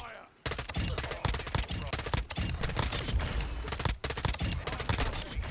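Rapid M16 rifle fire in the video game Modern Warfare 2, loud sustained bursts of shots in quick rhythm with brief pauses, filling the whole stretch.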